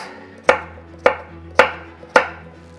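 Four sharp knife strokes on a cutting board, evenly spaced about half a second apart, dicing food into 1-inch pieces for a sweet lobster dish, close and crisp over a low steady hum.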